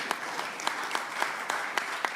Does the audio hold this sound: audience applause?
yes